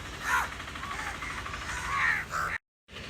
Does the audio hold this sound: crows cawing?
yes